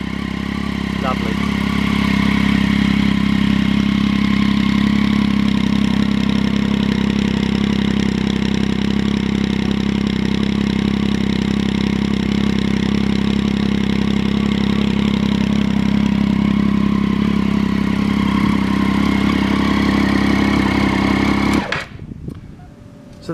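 A Triumph Street Triple 675 motorcycle fitted with an Arrow exhaust idles steadily up close, a loud, even burble holding for about twenty seconds before cutting off abruptly near the end.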